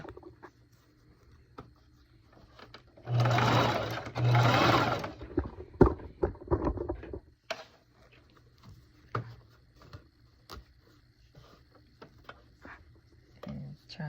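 A sewing machine stitches down a circle skirt hem edged with horsehair braid, a loud continuous whir for about three seconds, pausing briefly and then resuming, followed by quieter handling and scattered taps. A voice speaks before and after the stitching.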